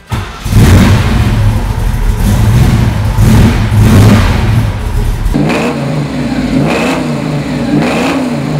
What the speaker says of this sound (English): It's got a nice little lumpy idle, very slight blower whine, very minor until you get on the gas